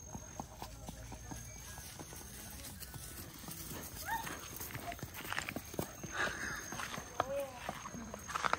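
Horse hooves clip-clop at a steady walking pace along a riverside outing spot, moderately close, with scattered voices and outdoor background noise around them.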